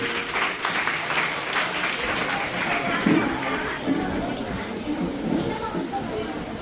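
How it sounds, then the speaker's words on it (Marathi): Audience applause welcoming dignitaries at a Marathi school event, a crowd clapping steadily with scattered voices and chatter mixed in throughout. "परत एकदा मी सगळ्यांना विनंती करतो की त्यांनी जोरदार टाळ्या वाजवून त्यांचं स्वागत करावे"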